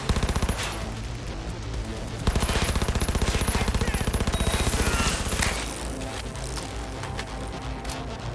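SMG gunfire in Cyberpunk 2077, dense bursts of rapid automatic shots that run almost continuously over a busy combat backdrop.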